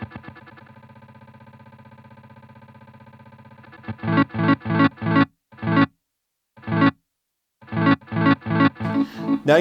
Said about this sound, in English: it sustains infinitely. So it's gonna grab those chunks and it's just gonna play them forever